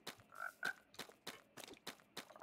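Frogs croak in a video game world with regular broadband pulses, about eight in quick succession, close and moderately loud with a couple of tonal chirps mixed in, no talking over them.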